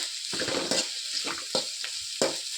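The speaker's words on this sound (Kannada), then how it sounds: "ನೋಡಿ ಸ್ವಲ್ಪ ಚೆನ್ನಾಗಿ ಎಣ್ಣೆಲಿ ಫ್ರೈ ಆಗಲಿ." Puffed rice tempering (mandakki oggarane) sizzles steadily in hot oil in a pan, with a few stirring scrapes cutting through the constant frying hiss; no one talks.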